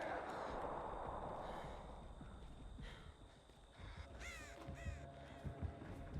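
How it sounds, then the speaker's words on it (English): Crow caws from the Dead by Daylight video game, a few hoarse calls rising late over steady game ambience and rustling background noise. "He might have seen the crow."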